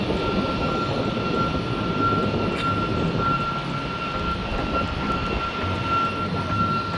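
A light airplane's engine throttled back to idle, giving a steady, continuous drone with a faint high tonal whine, heard up close inside the cockpit with no talking.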